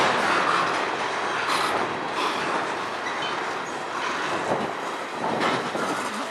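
A train rolls slowly past on the Strathroy Subdivision, steady wheel and rail noise with faint clickety-clack and occasional squeals, fairly close and continuous without talk.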